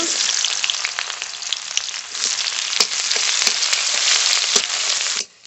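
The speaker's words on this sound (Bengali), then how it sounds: "পেঁয়াজটা একটু ভাজা ভাজা করে নিয়েছি" Chopped onion frying in hot oil in a kadai, spiced with kalo jeere for rui fish kalia, a loud, close, steady sizzle with sharp crackles and pops that cuts off abruptly at the end.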